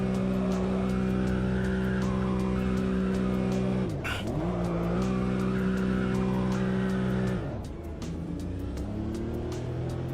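A Porsche race car in Automobilista 2 doing donuts, engine droning steadily at high revs with tire squeal layered on top, briefly dropping as it shifts, loud and continuous throughout.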